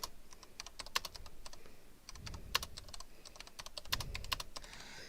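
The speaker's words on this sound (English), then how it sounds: "Sorry, typing with this thing." Computer keyboard typed on in quick irregular bursts of sharp clicky keystrokes, close and steady over about five seconds, alone without talk.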